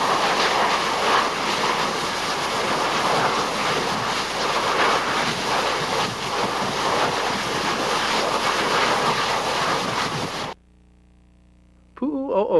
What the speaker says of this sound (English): Lava comes bursting out in several places with deafening jetting noises